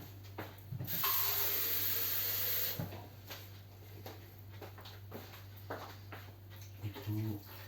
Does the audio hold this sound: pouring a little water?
yes